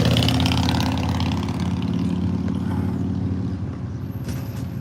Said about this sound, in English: It's kind of loud here with the trucks, stuff, motorbikes.